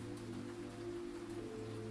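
Steady rain falls on a rainy night outside a laundromat, a soft, even patter with a low hum beneath it, quiet and continuous throughout with no voices.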